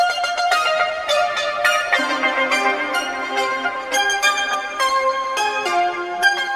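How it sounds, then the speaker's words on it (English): A bright, high-pitched melodic sample of bell-like tones, pitch-shifted an octave higher, plays continuously in quick, ringing notes, fairly loud with no talking. "copy and paste the section to another track and then change the pitch an octave higher"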